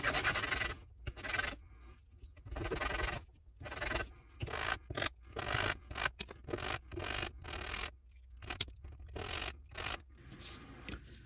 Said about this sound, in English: So use a sandpaper, or in my case, I'm just using this file.